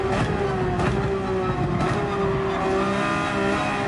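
Loud race car engine in the Gran Turismo 7 video game, a steady high droning whine held throughout with brief tire squeals, no talk.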